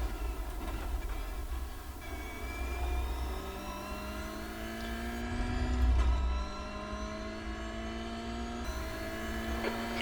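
Engine of a GR race car in the iRacing sim, running in a Bucket Cup race: a fairly faint, continuous whine rising in pitch through the gears, with repeated upshifts and a brief rumble midway.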